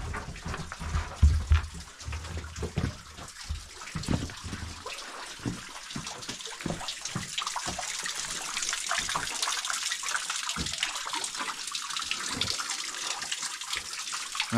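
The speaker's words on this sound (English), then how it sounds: "Nice little trickle there." Water trickles and splashes steadily inside a crystal cave in a marble mine, echoing, with a brief low rumble near the start and no talking.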